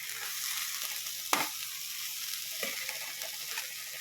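Bitter gourd fry being stirred in a pan, a steady moderate sizzle broken by a few sharp spatula scrapes and taps.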